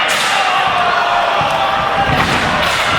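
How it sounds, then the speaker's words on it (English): A wrestler is drop kicked into a ladder at a pro wrestling event. A heavy slam lands amid a loud, steady crowd roar with cheering throughout and a few thuds. "He just drop kicked Mikey Nichols into that ladder."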